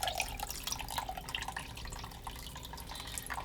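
Hot chicken bone broth drips and trickles steadily through cheesecloth, a continuous close liquid patter with no voices.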